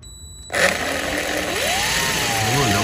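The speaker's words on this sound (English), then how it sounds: "I need you to drill a hole right on each one of those little screw holes" A power drill whirs steadily while boring holes for the screws of a phone mount on a side-by-side UTV, its pitch rising and sagging under load, loud and close with no talking.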